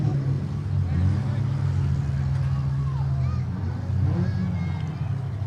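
A demolition derby truck at Heart O' Texas Speedway keeps driving while dragging its tailgate: a steady, droning engine rumble runs throughout, with voices talking over it.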